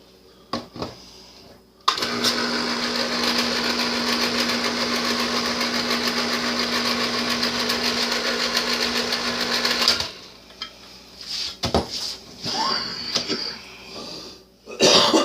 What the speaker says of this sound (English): you're fixing to hear her can opener going again